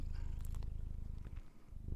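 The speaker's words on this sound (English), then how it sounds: "That ferocious little purr she's got." A small house cat purrs steadily and softly at close range, making a low continuous rumbling with a few faint clicks and rustles.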